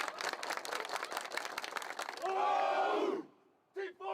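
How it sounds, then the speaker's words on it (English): Spectators at a spring college football event clap rapidly in a brisk, close burst, then break into a loud collective shout that cuts off sharply, followed by a short pause and a brief voice. "let's clap it up here."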